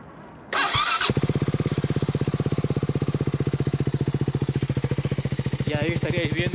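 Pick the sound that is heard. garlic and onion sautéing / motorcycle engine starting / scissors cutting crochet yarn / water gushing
motorcycle engine starting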